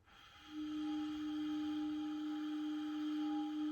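Clarinet deliberately playing a soft undertone, a single sustained low note entering after a brief pause and held steadily to the end, quiet and close with no talking.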